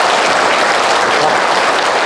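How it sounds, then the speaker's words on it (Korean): Dense, steady audience applause from a hall full of people at a Buddhist temple event, loud and continuous without pause. "제가 이 박수를 지금 받으면 안 될 것 같아가지고요"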